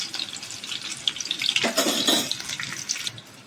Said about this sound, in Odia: ପଞ୍ଚ ଫୁଟଣ ଆମର ଫୁଟିଗଲାଣି।